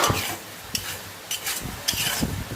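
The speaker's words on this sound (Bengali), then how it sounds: "এ দেখুন কড়াইয়ে চাল তৈরি হচ্ছে কীভাবে" Rice roasting in a wok for puffed rice, with a soft gritty sizzle under repeated scraping strokes of a stirrer against the pan, close and fairly quiet.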